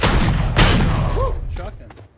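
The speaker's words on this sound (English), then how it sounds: "Shotgun." Shotgun blasts in the video game Valorant, a couple of loud booming shots close together at the start followed by quieter gunfire and game effects as the sound fades.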